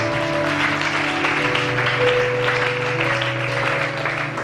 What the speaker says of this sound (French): Acclamons très fortement toute la gloire à Dieu